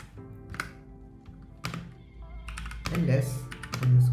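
Someone types JavaScript code on a computer keyboard, with close, scattered key clicks and taps, some in quick clusters, while a person talks over them.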